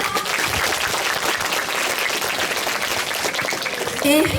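Crowd applause at a Balinese language month school event at a senior high school, a dense continuous clapping from a sizable audience filling the whole stretch, with a brief voice or cheer rising at the very end.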